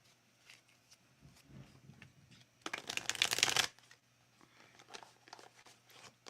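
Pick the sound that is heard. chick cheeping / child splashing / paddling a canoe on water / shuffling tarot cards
shuffling tarot cards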